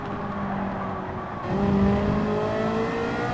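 A Ferrari race car in Gran Turismo 7 drones at a steady high pitch, then surges louder as the revs climb mid-clip and the engine tone rises, heard from close by with no voices.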